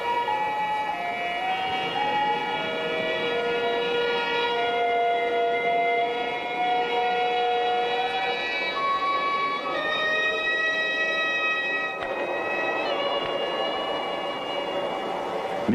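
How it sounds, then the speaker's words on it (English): Flutes at a Shinto ritual, reverberating off the mylar surface of a dome: sustained high, shifting tones that overlap in a continuous wash with a strong echoing resonance, steady and moderately loud throughout. "As the ancient Shinto rituals bless the occasion, old and new meet in unique contrast, with sound of flutes reverberating from that mylar surface of the dome."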